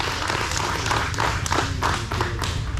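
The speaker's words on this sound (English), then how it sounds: "One more round of applause for Horsepower Factory." Applause and scattered clapping from a crowd at a Ford Takeover dyno shootout, a short burst of dense hand claps and thumps close by.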